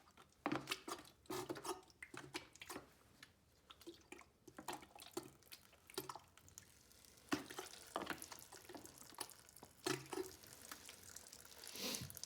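Diesel fuel drips from a Farmall Cub tractor part, a series of small irregular drips and light liquid ticks, close and faint, with occasional louder splats and handling noises.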